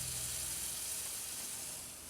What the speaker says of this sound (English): Yeah, that's right, it's sizzling.